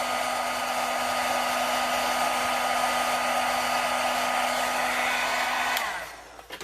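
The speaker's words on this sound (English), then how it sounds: "Normally you want to let your heat tool get a little warmer than that." A heat tool blasting hot air over ink drones steadily with a strong airy roar and a low motor hum, close and constant, then cuts off near the end, no voices.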